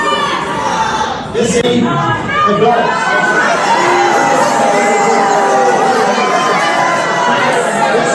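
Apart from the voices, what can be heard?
crowd booing at a town hall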